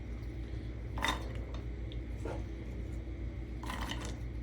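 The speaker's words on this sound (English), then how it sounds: "we're going to take about half of the vegetables and just go ahead and put them in the bottom of our pot here" Marinating vegetables tumble into the bottom of a cooking pot, producing a few soft, muffled clatters and knocks spaced a second or so apart over a steady low background hum.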